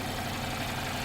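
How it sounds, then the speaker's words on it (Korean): Gasoline Mercedes-Benz C-Class engine idling in an underground parking level, a steady dense hum with broadband mechanical noise, close and even throughout without any talk. "엔진 소리도 들어보십시오."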